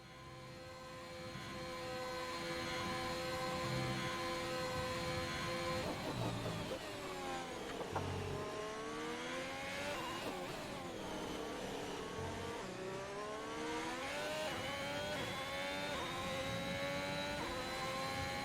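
Formula 2 race car engine on a qualifying lap in the F1 2021 video game, a loud sustained whine that climbs and drops through gear changes and braking, continuous and close for the whole stretch with no talk.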